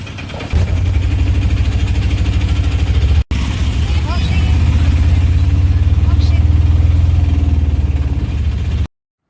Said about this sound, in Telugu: ఇంకా ఆటో ఎక్కేసి మేమైతే బయలుదేరిపోయామన్నమాట